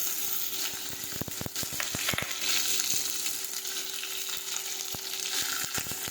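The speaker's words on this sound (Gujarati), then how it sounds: "હવે આપણે ભીંડો નાખી દઈશું." Okra (bhindi) sautés in a pan with garlic, giving a steady hiss of frying oil broken by many quick clicks and taps.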